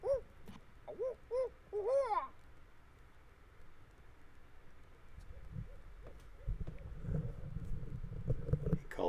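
Owls calling from trees at a Missouri campsite at night, a few quick, wavering hoots up front that fade into low rumbling background noise, moderately close.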